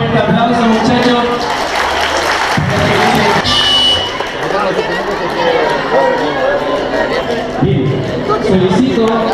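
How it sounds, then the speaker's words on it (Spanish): Students at a Chilean school ceremony break into loud applause and cheering, a dense crowd clapping steadily throughout, with someone speaking over a microphone and chatter mixed in. "Ahí está, un fuerte aplauso, muchachos."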